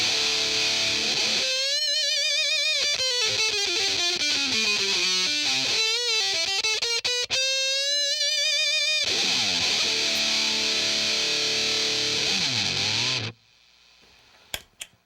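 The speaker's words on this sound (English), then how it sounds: "The Metal Muff really is the ultimate pedal for heavy, heavy distortion." Heavily distorted electric guitar through an Electro-Harmonix Metal Muff distortion pedal with top boost plays sustained, saturated notes and bending phrases, loud and continuous, then cuts off abruptly near the end.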